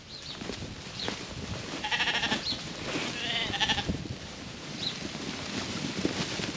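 Several sheep bleat in short wavering calls outdoors, over wind and rustling, some nearer and some farther off.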